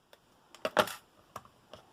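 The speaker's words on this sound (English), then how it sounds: "I'll just take my scissors and do that now." Several sharp snips of scissors cutting paper, a quick cluster of crisp clicks followed by a few isolated cuts, close and fairly loud in a quiet room.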